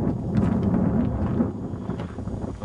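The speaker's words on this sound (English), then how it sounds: "It's a little breezy up here this morning." Breezy morning wind outdoors at a new residence in Tennessee, heard as low rumbling gusts buffeting the microphone close up, strongest at the start and then easing into softer fluttering.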